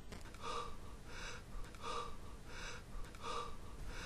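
Heavy, nervous breathing in an animated comedy scene, with four long rhythmic breath cycles, each a loud gasping draw followed by a release, close up over a constant background hiss, and no speech.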